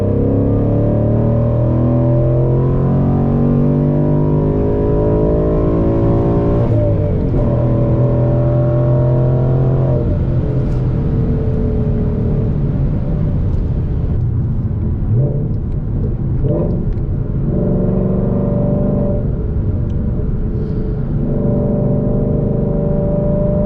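A Ford Mustang GT engine pulls hard in third gear after a downshift on an open road, a loud, steady rising drone with a deep rumble heard from inside the car.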